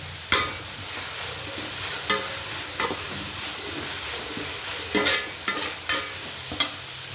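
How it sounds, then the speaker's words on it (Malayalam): Onion and ginger-garlic paste sautéing in plenty of oil for a chicken curry: a steady close sizzle broken by repeated scraping stirs of a spoon against the pan, with no talking. "അപ്പോൾ സവാള വാടിക്കൊണ്ടിരിക്കുകയാണ്. നമുക്ക് അതിൻ്റെ കൂടെ ഇഞ്ചി വെളുത്തുള്ളി പേസ്റ്റ് ചേർത്ത് കൊടുക്കാം."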